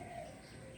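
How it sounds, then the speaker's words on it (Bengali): Birds calling in garden trees with a dove cooing, a soft steady outdoor chorus at moderate distance, brief and without talk. "পাখিদের ডাকাডাকি শুরু হয়েছে গাছে গাছে পাখিরা চলছে"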